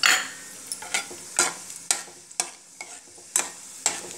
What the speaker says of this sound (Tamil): இப்போ எண்ணெய் காஞ்செடுத்தோம் இப்போ வந்து நம்ம வச்சுருக்கிற இந்த ஏலக்காய் அப்புறம் வந்து கிராம்பு இடித்து வச்சது அதில் போடுறேன்